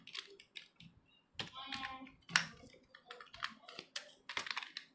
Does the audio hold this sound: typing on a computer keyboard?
yes